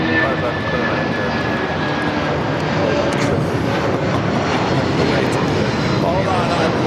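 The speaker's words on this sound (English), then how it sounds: "New Pacific Airlines 9710 taking off to Long Beach" A jet airliner's engines roar in a loud, steady wash as it takes off from LAX, with a faint radio-style voice partly masked beneath it.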